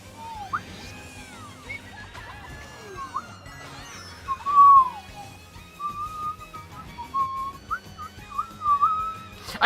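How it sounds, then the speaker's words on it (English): A person whistles a wandering melody alone, with sliding pitches and short held notes, loud and close, and no talking over it. "I can whistle. Does that count?"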